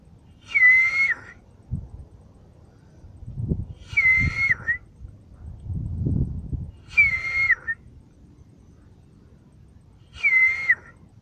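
Four short, high phrases of Silbo Gomero whistled speech repeat at even intervals, each a warbling melodic call, with faint low rustling and handling noise between them.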